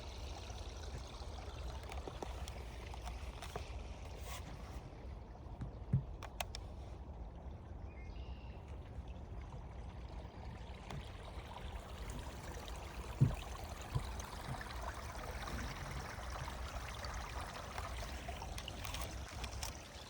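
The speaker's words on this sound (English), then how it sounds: "Listen to that water." A stream in Clairville flows steadily and continuously, a broad even rush of water close by with no voices over it.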